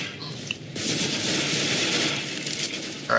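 An AK rifle fires a rapid automatic burst in the video game Counter-Strike: GO, a dense stretch of loud gunfire lasting a few seconds.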